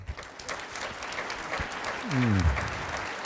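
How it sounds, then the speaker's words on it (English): Applause from a conference audience thanking panelists after a philanthropy and fundraising panel, a sustained crowd clapping that swells toward the end, with a brief low tonal sound near the close. "Should we give them a round of applause?"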